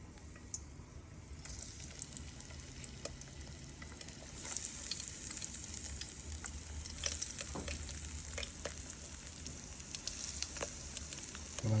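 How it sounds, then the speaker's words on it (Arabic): Frozen chicken strips fry in oil that is only moderately hot, giving a steady close sizzle with scattered pops and crackles that builds slightly over time, with no talking. "ننزل بقى بيه في الزيت."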